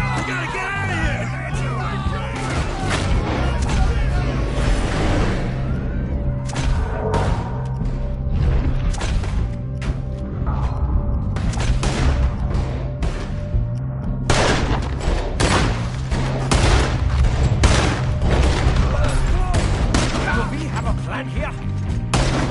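Sustained gunfire from a Red Dead Redemption 2 shootout, dense volleys of shots and thuds over a steady din, with shouting voices mixed in throughout.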